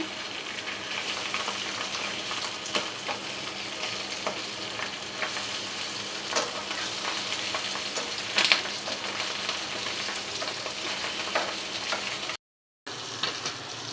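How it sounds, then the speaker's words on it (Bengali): Fish fries lightly in a spice paste with a little water, giving a steady, close sizzle with occasional stirring scrapes, a short gap near the end, and no talk. "মশলাটা কষিয়ে নিচ্ছি মাছটা হতে দিচ্ছি বেশি ভাজবো না হালকা করে ভেজে নেব"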